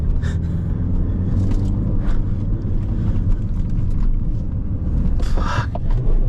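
A BMW car driving hard, with a loud, steady engine roar and heavy road rumble filling the cabin, wind noise mixed in, without pause.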